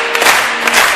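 Wedding guests applaud and cheer together in a dense, loud burst of clapping and crowd noise that fills the whole brief moment.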